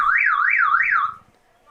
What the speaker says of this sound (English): Car alarm went off.